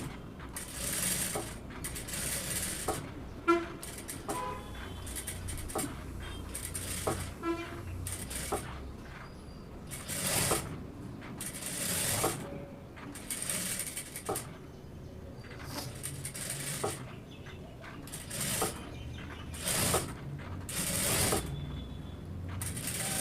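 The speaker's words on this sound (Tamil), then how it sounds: "இப்போது உள்பகுதியில் நம்ம தையல் போட்டுக்கலாம்" A tailoring sewing machine stitches the inner side of a chudidar on canvas, close and mechanical, with rattling, clicking runs that start and stop in uneven bursts throughout.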